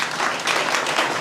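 An audience at a gathering for newly hired Delhi Police recruits breaks into sustained applause, a close, dense burst of many hands clapping with no speech over it.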